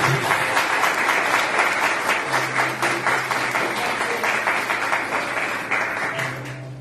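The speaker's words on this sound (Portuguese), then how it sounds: "Eu queria que neste momento você aplaudisse ao Senhor por essa palavra" A church congregation claps together in a fast, regular rhythm, the rapid unison beats loud and close for several seconds before fading out, while a low sustained tone hums underneath.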